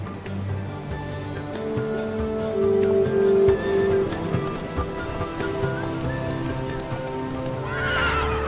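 Horse neighing and hoof clip-clop in The Witcher 3: Wild Hunt, a whinny rising over steady hoofbeats and a rain-like wash of ambience, fairly loud and continuous with no talk.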